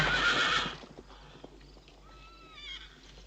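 A horse gives a loud whinny at the start. It is followed by softer hoof clip-clops and rustling, and a faint further neigh toward the end.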